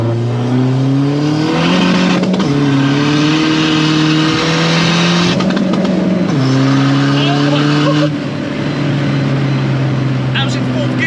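A 500bhp Seat Ibiza FR diesel on the factory ECU, tuned and running nitrous, revs hard through the gears with wheel spin, the loud engine note climbing and dropping at each shift while people talk over it.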